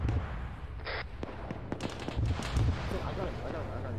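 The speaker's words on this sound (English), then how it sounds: "I've got eyes on the AGS, he's firing at me." Gunfire in the Arma 3 video game with an AGS grenade launcher firing, a burst of sharp cracks and booms clustered mid-stretch against a rumbling background, with voices talking over it.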